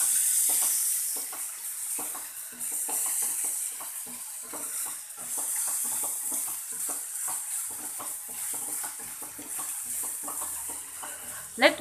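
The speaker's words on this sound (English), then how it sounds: "Let it fry nicely again till the tomato kind of becomes very soft" Chicken and tomato frying in a pan for chicken sukka, giving a steady, close sizzle with frequent sharp crackles and stirring clicks throughout, and a brief louder scrape near the end.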